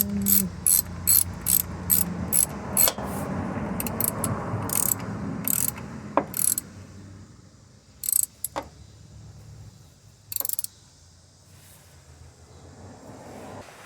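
A hand ratchet clicks in quick repeated bursts while tightening the Teflon-taped fill plug on a Jeep TJ/XJ Dana axle differential, close and loud, pausing between strokes, with no talking.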